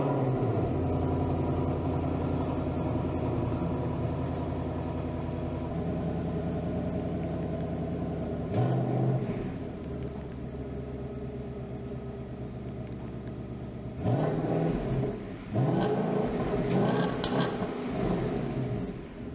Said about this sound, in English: I can actually stand behind the car now and rev it and hear the factory exhaust for myself